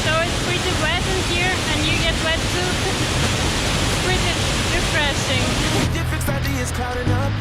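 Yeh Ho waterfall in Bali: loud, steady roar of falling water close by, filling the whole clip with dense rushing noise that eases slightly near the end.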